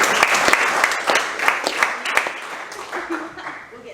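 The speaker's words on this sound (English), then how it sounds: "Give that guy a round of applause." An audience applauds at an evening event, with a burst of scattered hand claps that rises and then fades out, and voices murmur underneath.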